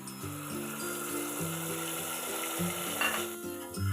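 Masala paste fries in oil over browned onions for a mutton curry, a soft continuous sizzle with light stirring beneath steady background music.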